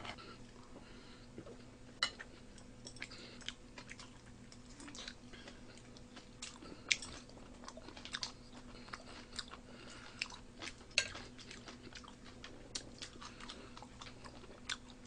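Kimchi being chewed and eaten close up, with quiet irregular crunchy bites and soft chewing over about fifteen seconds, plus faint clicks like utensils, no talking.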